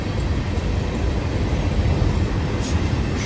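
A Union Pacific empty coal train rolls past close by, a steady loud broadband rumble of wheels and cars holding constant throughout, with no voices.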